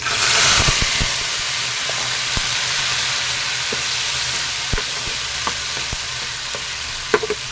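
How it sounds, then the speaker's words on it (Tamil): Pre-boiled prawns fry in a pan with curry leaves and a little fennel seed, giving a loud, steady sizzle and hiss throughout with occasional sharp pops and spatters, close up and with no one talking. "இப்போ நம்ம ஆல்ரெடி வேக வச்ச இறாவை ஆட் பண்ணிடலாம்"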